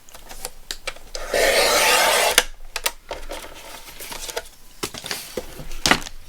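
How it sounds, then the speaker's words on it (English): Paper being trimmed on a paper cutter at a craft table while making mini journals, a sustained dry rasping slice lasting about a second, framed by sharper clicks and taps before and after. "I've got a million things on my cutter. Here we go. So just trim that off"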